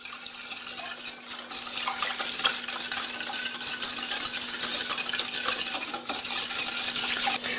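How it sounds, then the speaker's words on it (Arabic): A spoon stirs vanilla-flavored Danone yogurt into other ingredients in a bowl, giving a continuous close scraping and swishing with small clinks, a faint steady hum behind it, and no talking. "غادي نضيفوا هاد دانون اولا الزبادي بنكهه الفاني، وغادي نخلط هاد المكونات مزيان"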